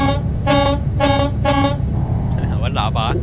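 Truck horn in Euro Truck Simulator 2, three loud evenly spaced honks from the player's truck, followed by a voice speaking over the engine hum.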